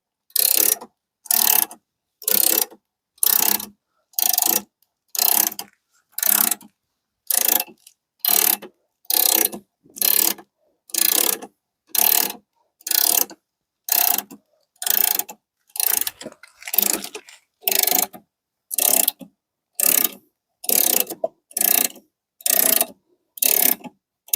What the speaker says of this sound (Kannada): ಇದು ನೋಡಿ ಜಾಕು ಸುಲಭದಲ್ಲಿ ಜಾಕ್ ಏರ್ತಾ ಇದೆ